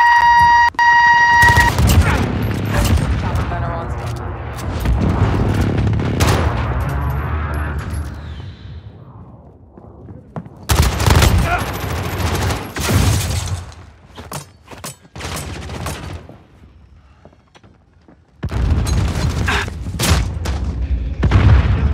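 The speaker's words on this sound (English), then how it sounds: "Be advised, friendly precision airstrike inbound." Call of Duty: Modern Warfare gameplay brings loud bursts of gunfire and heavy explosions from a precision airstrike, separated by brief quieter gaps, with shrill alert tones near the start.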